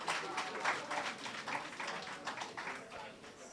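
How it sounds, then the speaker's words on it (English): Audience applause at an entrepreneurship grants presentation in Jamaica, heard as a dense, continuous patter of many hands clapping at a steady level throughout, with a faint murmur beneath. "Give her a round of applause."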